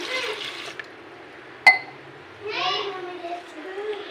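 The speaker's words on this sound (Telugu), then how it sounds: "ఇందులోకి వాటర్ వేసేసుకుందాము" Water pours steadily into a pot of washed lentils with a splashing rush, followed by a sharp clunk and then a brief stretch of talking.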